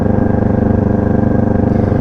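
A motorcycle engine runs loud and close while the rider shifts up into fourth gear, giving a steady, throbbing drone with a rapid pulsing rhythm.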